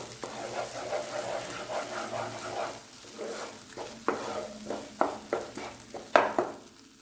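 A spoon scrapes and stirs fish tikka masala in a pan, soft bubbling and sizzling at first, then a series of sharper scraping knocks growing louder toward the end.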